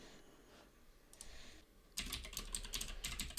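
Code being typed on a computer keyboard, starting with soft scattered keystrokes and becoming a steady, close burst of rapid clicking taps in the second half.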